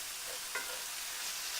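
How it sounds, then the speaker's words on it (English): Minced meat sizzling in a pan for a Bolognese sauce, a steady close hiss of frying with a brief scrape of stirring partway through, no talking. "You can probably hear it sizzling away."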